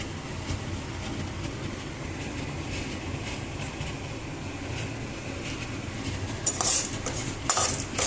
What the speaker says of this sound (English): And saute it continuously.